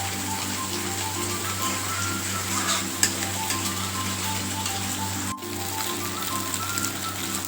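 Spice masala made with ground nuts cooks in a pan with a loud, steady sizzle and frying crackle, plus a sharp utensil knock partway through. There is no talk.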